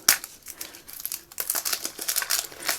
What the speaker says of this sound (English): So I'm going to unwrap them all.